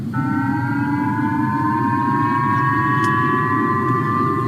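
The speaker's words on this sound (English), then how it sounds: "People in the northern region of Hokkaido woke up to these sirens" A loud, steady air raid siren wails continuously with a slowly rising tone in northern Japan's Hokkaido, warning of a North Korean missile launch, dominating the scene.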